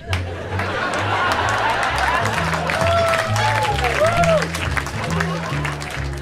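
Comedy show audience at a 1999 stand-up set clapping and murmuring in a dense, continuous wash of applause, with faint chatter mixed in.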